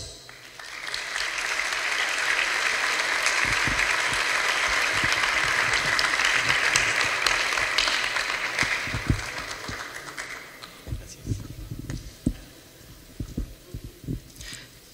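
An audience at an evening conference applauds the opening speaker, a long, steady wash of clapping that swells, holds for several seconds, then thins into scattered claps and thumps near the microphone.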